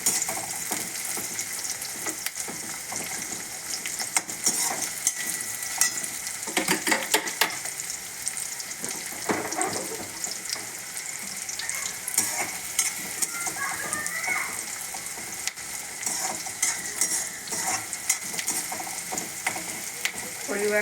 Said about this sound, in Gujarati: કાંદા એડ કરીને થોડી વાર એને પણ આપણે ફ્રાય કરી લઈશું.